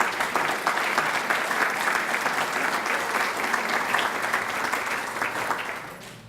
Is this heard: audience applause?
yes